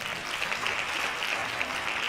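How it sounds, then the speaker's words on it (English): Crowd-style hand clapping, a dense, steady spatter of many claps at moderate loudness with no pause. "Hand claps."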